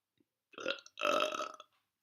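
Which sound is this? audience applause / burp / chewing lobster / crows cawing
burp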